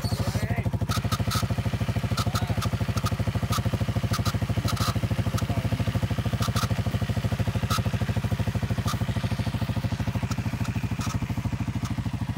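A Yamaha Raptor 700 ATV engine runs steadily at close range for about twelve seconds. It gives a continuous, even, thumping drone with faint clicks and clatter on top.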